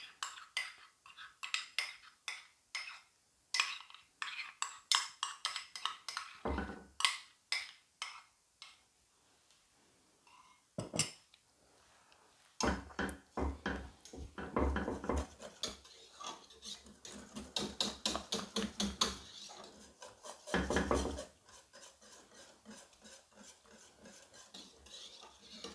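Spoon stirring and clinking against a pot as sweetened condensed milk is mixed into porridge, a steady rhythmic scraping and tapping that runs on with brief pauses.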